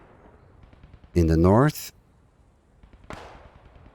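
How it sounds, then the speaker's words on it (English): Anti-tank gun firing on infantry in a multiplayer World War strategy game: one loud booming shot with a ringing tail, followed a couple of seconds later by a sharp distant impact crack, while a commentator talks over it. "Here you see the AT gun used on the infantry"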